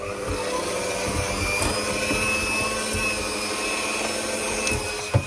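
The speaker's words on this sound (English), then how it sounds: "First I'm going to mix this." Electric mixer whirring through blueberry muffin batter, a loud steady motor whine with faint rattles and knocks, continuous throughout and ending with a brief bump.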